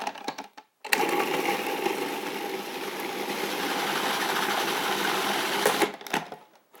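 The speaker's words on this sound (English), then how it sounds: "It's as simple as putting it in the food processor." A food processor blends raw marinara sauce in one continuous whirring burst of about five seconds, loud and close, starting abruptly and cutting off with brief pauses at either end.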